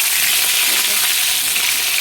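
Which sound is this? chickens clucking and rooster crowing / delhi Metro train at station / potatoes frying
potatoes frying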